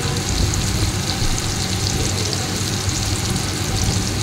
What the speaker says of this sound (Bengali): এবার কড়াইতে আলু দিয়ে দিলাম।